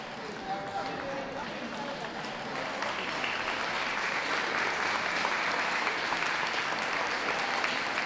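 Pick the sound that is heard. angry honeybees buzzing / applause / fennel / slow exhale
applause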